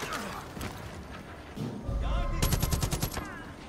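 Gunfire in the video game Far Cry 5: a rapid burst of automatic shots with heavy low thumps, loud and close, over a busy game soundscape.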